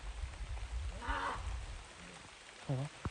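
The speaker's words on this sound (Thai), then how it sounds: "ยอมตากฝนละ" Faint, steady rainfall in a border forest, a soft continuous hiss with a few brief murmured voice sounds over it.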